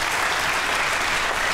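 Dense, steady applause from a live audience at a comedy show, clapping to vote for a band member, loud and sustained with no gaps.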